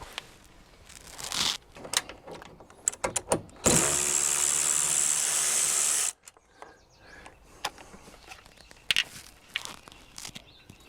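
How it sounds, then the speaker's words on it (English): A ratchet backs out 10mm screws from a 2015-2018 Toyota RAV4 side mirror: scattered clicks and taps, then a loud steady whirring burst of about two seconds, followed by more sparse clicking. "And now we can proceed with removing our three 10mm screws."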